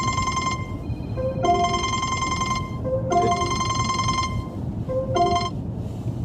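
A telephone rings in repeated electronic bursts, three rings with short gaps between them, loud and close, with no talking over it.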